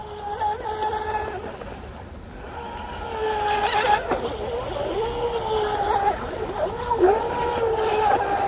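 An RC boat with a 6s big block motor runs on water, its high electric whine rising and falling with throttle changes, close and fairly loud amid outdoor background noise.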